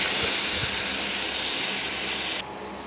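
Meat dropped into fried spice paste in a hot pan sets off a loud, steady broadband hiss that holds for over two seconds, then eases down abruptly near the end.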